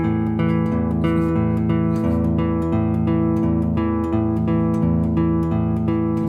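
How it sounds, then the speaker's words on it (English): Guitar bass notes are played without palm muting, so each note rings long and overlaps the next in a steady, slightly messy repeating pattern, close and even in level. "if I don't palm mute, it sounds like this"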